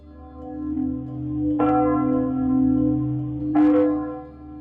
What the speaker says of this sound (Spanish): La campana tañó una vez más, con un sonido grave, doliente y poderoso,